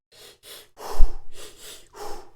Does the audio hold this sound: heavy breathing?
yes